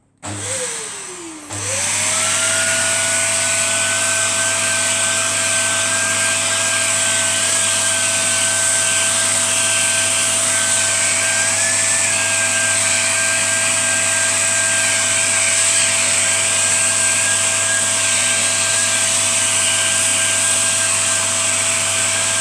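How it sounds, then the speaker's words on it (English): A vacuum cleaner switches on and runs steadily while cleaning the inside of a PS4 console, a loud, close, constant whining drone after a brief start-up. "just give that a quick vacuum"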